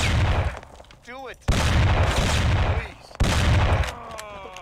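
Bursts of gunfire in the original Mafia video game pop in two volleys with a short pause between them, loud and close, separated by brief electronic effect sounds.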